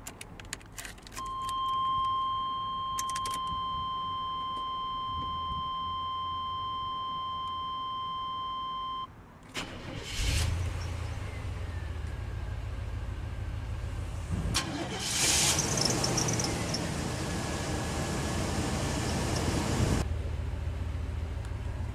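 Start-up of a 1989 Chevrolet K3500 Silverado with a Big Block 454 V8. A steady tone and keys come first, then the starter cranks and the engine catches into a loud, rumbling idle, with a second burst of revving afterward.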